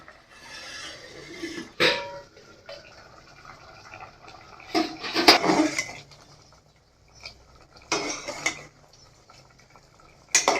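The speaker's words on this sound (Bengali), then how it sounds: "এখন আমি ঢাকা দিয়ে দিচ্ছি।" A lid set on a pot of lentils cooking. Several distinct metallic clinks and scrapes come in bursts, separated by near-quiet gaps.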